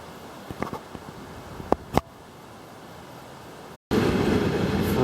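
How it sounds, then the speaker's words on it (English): A freight train rumbles past nearby in Mittagong, Southern Highlands, beside an old maltings brewery, with a few sharp metallic clanks, then the sound cuts to a louder, steady roar of rolling wagons. "Freight train."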